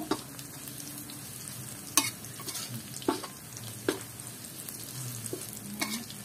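Pork and cabbage are stir-fried in a pan, giving a steady close sizzle punctuated by occasional sharp scrapes and clinks of a utensil stirring.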